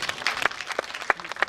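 A gathering of head teachers at an outdoor event in Migori claps after a tree-planting target is met, a loose scatter of sharp individual claps rather than a dense wave, moderately close.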